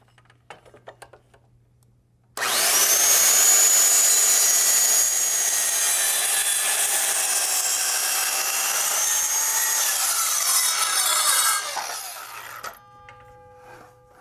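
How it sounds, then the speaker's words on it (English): A power saw slices through wood for a simple table, a loud, sustained whining cut of about ten seconds that starts abruptly and then winds down, with quiet room noise before and after. "Line up the saw blade."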